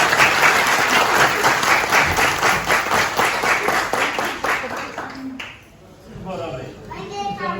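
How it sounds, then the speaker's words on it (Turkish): Guests at a wedding ceremony applaud the bride, dense loud clapping that fades out near the end, followed by voices and children's chatter. "Gelin hanıma bir alkışlar"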